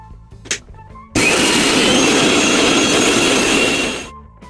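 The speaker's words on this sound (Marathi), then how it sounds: "त्यानंतर वाटण छान मिक्सरमध्ये बारीक करून घ्यायचं।" A kitchen mixer grinder whirs loudly for about three seconds, grinding a thick spice paste for a Maharashtrian matki curry. It starts abruptly, holds a harsh, steady roar and winds down quickly, with brief quiet before and after.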